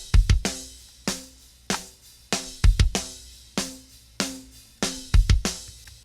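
Metal drum kit kick and snare crushed through parallel 1176 compression with fast attack and release, punchy hits in a steady driving groove with flams and doubled kicks, loud and up close, with no talking.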